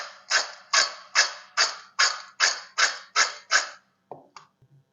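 About nine quick crunchy rattling bursts in a steady rhythm, crisp fried boondi pieces being shaken or crushed up close, followed by a couple of small clicks.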